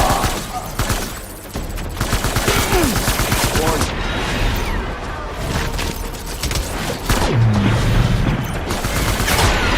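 Dense, continuous gunfire from a firefight in the video game Death Stranding, with rapid overlapping shots and booms filling the whole stretch, loud and near, with faint voices mixed in.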